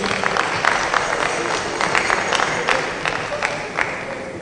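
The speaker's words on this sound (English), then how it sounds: "Another round of applause, please." An audience at a football club kit unveiling event in Accra claps steadily, a moderately loud crowd patter with a murmur of voices underneath.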